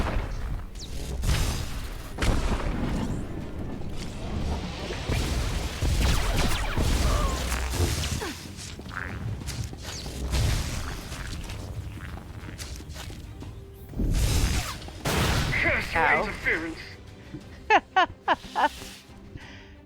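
Enemies blowing up in Star Wars: The Old Republic, heavy booming blasts and crashes amid combat noise, loud and repeated through the stretch.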